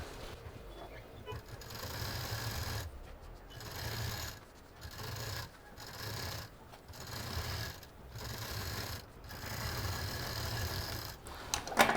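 A sewing machine stitches a cloth mask with a cap, whirring in several steady bursts separated by short pauses, close and loud, with no talk over it.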